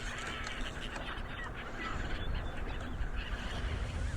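Seagull cries used as a sound effect in a read-aloud children's story about surfing, a dense flock of honking, squawking calls layered over steady ambient noise, continuous and fairly loud for the whole stretch.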